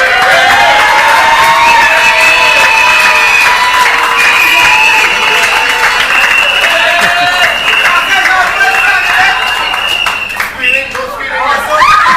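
A crowd applauds and cheers for councillors at an evening political gathering, sustained clapping and shouts filling the room at close range, with voices and laughter mixed through it.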